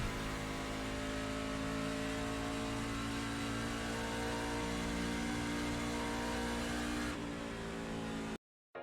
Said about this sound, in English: full throttle as soon as you can, all the way back around to finish the lap